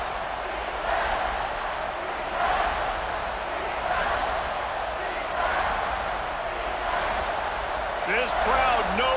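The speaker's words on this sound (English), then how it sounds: "this crowd is getting behind this defense." A virtual stadium crowd roars steadily during an Alabama vs Auburn game in College Football 26, loud and continuous with rhythmic swells every second or so, and a few sharp shouts or whistles rising above the din near the end.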